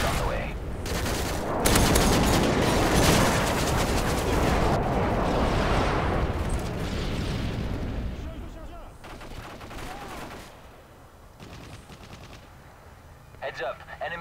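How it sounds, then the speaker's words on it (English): Combat in Call of Duty MW3 as a friendly airstrike arrives: a loud, dense stretch of gunfire and blasts that fills the first half, then thins out to scattered sharp shots and quieter moments. "Friendly airstrike on the way."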